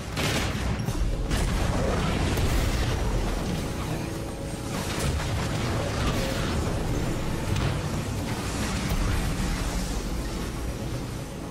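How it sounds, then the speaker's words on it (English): A big explosion rumbles through a Transformers video game on an Xbox 360 emulator, a dense, continuous roar of blasts and gunfire that stays loud and unbroken from start to finish. "Explosion imminent."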